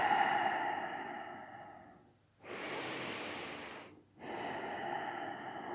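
Slow, deep breathing during a yoga back-rounding exercise: a long airy inhale and exhale, close and clear, with brief pauses between breaths and no talking.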